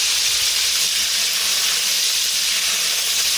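Chicken karaage pieces going back into hot oil around 375 degrees for a second fry give a steady, loud, dense sizzling hiss that holds unbroken throughout.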